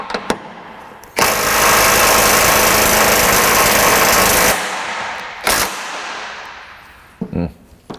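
A 1/2 inch impact wrench works on the K member fasteners of a Fox body car, giving a loud, sustained rattling hammer burst of about three seconds, followed by a short blip and some clanks in a garage.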